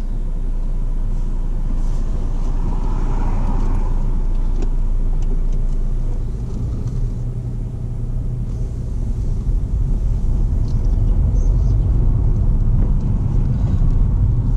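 A car idles and pulls away during a driving lesson, giving a continuous low engine rumble with steady road noise throughout. No speech is heard over it.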